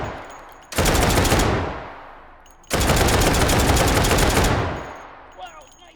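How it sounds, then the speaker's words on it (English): A belt-fed gun in the H3VR video game fires 10x27mm pulsed ammunition in two loud, sustained bursts of rapid automatic fire, each lasting about two seconds, with a short quiet gap between them. "a belt-fed weapon that fires 10 by 27 millimeter pulsed ammunition"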